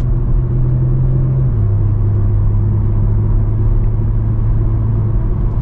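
A steady, low engine drone and road rumble heard from inside a BMW M140i cabin, with active engine sound, continuous and muffled, with no talking.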